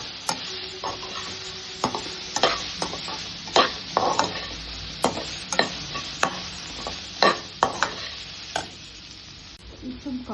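Deep-fried crispy corn stirred and tossed in a pan, with repeated sharp scraping and clinking strokes against the metal over a steady background sizzle, close and moderately loud with no talking.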